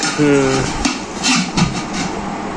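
A large rice cooking pot and its lids are handled at close range, with a few clanks and knocks of metal, light scraping and faint background voices.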